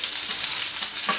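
Pre-cooked tournedos browning and reheating in a pan, giving a steady, bright sizzle with a crackling spit near the end, close and loud, no talking.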